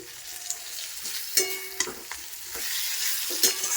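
Spice masala for a prawn and potato curry is sautéed in oil, its soft continuous sizzle punctuated by several scraping, clattering strokes of a spoon against the pan.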